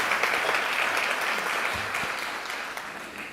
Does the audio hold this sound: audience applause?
yes